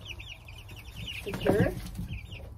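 Hens cluck softly and intermittently nearby, with one louder squawk in the middle, under a low background hum and a brief voice.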